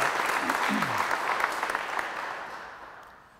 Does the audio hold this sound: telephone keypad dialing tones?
no